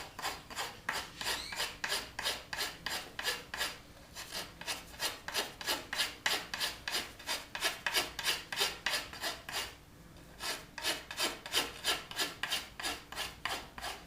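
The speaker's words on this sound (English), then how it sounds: "I'm a little bit more careful when I'm rasping close to the limb like that" A wood rasp works along a wooden bow limb near the tip, giving rapid rhythmic scraping strokes in bursts of around a dozen, close and steady, with brief pauses between runs.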